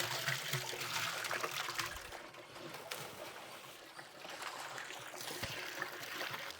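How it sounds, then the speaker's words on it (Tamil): Cans of water are poured into a large pot for a 25 kg basmati biryani, splashing and gushing steadily nearby in a continuous rushing stream with faint birdsong outdoors. "4 கேன் தண்ணி ஊற்றிக்கிறேன்."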